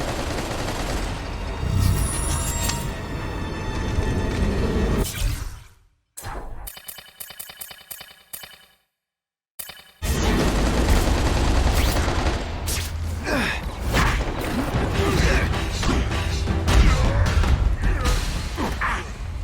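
Gunfire in The Amazing Spider-Man 2 video game: dense, loud bursts of shots and crashes, then a brief muffled gap with faint mechanical rattling, then heavy continuous firing again.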